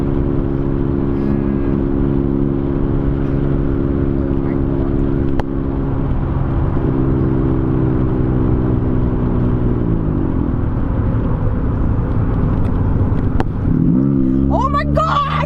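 A Volkswagen Up with a newly modified exhaust idles and revs steadily, its deep droning engine note rising and shifting pitch near the end, with people talking over it.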